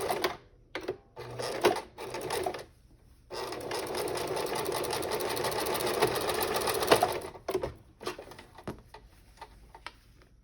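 A sewing machine runs an overedge zigzag stitch along tote bag strap edges, starting with short bursts, then one sustained whirring run of a few seconds, ending in brief stops and starts.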